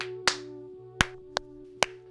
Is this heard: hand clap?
yes